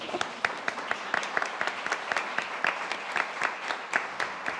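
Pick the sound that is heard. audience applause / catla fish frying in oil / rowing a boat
audience applause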